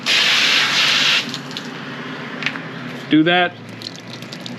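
Water from a garden hose sprays loudly onto a wax applicator pad for about a second, then fades to quieter dribbling, with a brief spoken voice near the end.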